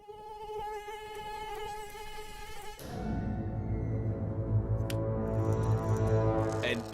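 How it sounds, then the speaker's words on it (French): A mosquito's thin whining buzz rises and holds for about three seconds, then gives way to a louder, busier sound with a brief sharp tone near the middle. "Un piquet à moustique bien dangereux."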